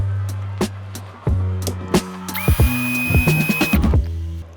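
An Alpa cordless drill-driver spins freely at its second speed, its steady high whine running through the clip. Several short clicks and trigger knocks break it up, and a sharper, higher tone briefly rises partway through.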